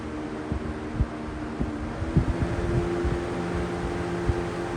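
Lakewood 200i box fan with metal blades on its high setting, a constant loud rushing whir with a low humming tone and occasional soft rhythmic knocks, no speech.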